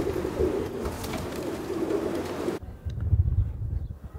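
Pigeons on Santorini, released into the sky on a windy day, with cooing and bird calls over gusting wind noise; a heavier rumbling wind burst takes over partway through.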